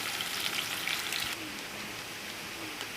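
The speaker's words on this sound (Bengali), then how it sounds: "পেঁয়াজগুলোকে প্রথমে হালকা একটু ভেজে নেব।" Onions lightly frying in a pan as the first step of a tempering for papaya dal, giving a soft, steady sizzle and crackle heard alone at low volume.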